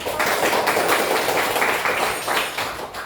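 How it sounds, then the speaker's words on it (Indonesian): Close, loud hand clapping from a school class of students, a dense burst of claps lasting about three seconds. "Tepuk tangan dong."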